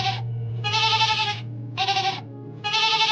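A goat bleats repeatedly, four long wavering calls separated by brief pauses, close and loud over a low steady hum.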